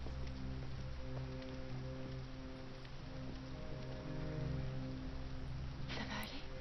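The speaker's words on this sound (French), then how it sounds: "On est encore sous la pluie, hein." Steady rain in the Detroit: Become Human video game, a constant soft patter on surfaces with a low hum beneath it, continuous and even throughout, with a brief brighter splash near the end.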